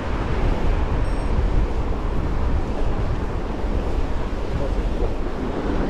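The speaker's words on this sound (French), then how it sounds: "On a un léger vent de face" Steady wind rush and rolling surf at Hardelot beach on the Côte d'Opale at high tide, with a light headwind buffeting the microphone throughout; loud, continuous and close, with no voices.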